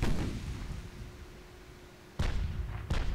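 Heavy naval guns fire in the warship game Ultimate Admiral Dreadnoughts, with two sharp, loud booms arriving late, each followed by a rumbling tail after a stretch of low, muffled rumble.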